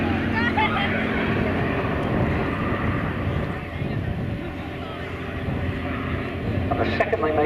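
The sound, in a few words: Bristol biplane flying at Shuttleworth air show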